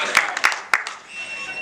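Audience applause at a kavi sammelan poetry recital, a short burst of scattered clapping from a crowd that quickly fades out within about a second.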